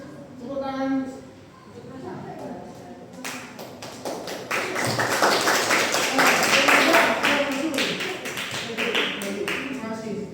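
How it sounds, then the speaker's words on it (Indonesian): An audience breaks into hand clapping at a talk or quiz session, the dense, rapid claps swelling and continuing for several seconds after a voice speaks. "Tepuk tangan."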